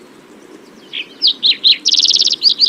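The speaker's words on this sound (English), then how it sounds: "Another favorite example, so this is a green-tailed towhee." A green-tailed towhee, a North American songbird, sings a short, clear song of a few sliding chirps that run into a rapid, bright trill, close and alone.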